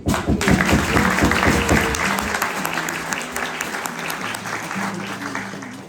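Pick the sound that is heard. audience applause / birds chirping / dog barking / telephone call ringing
audience applause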